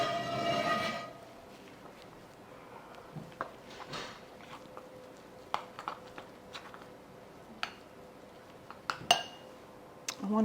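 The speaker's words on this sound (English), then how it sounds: "Next is stirring in the buttermilk." Buttermilk being stirred into cheesy garlic biscuit dough in a bowl: a quiet scrape and sporadic clinks of a utensil against the bowl, irregular and close, over a soft background hum.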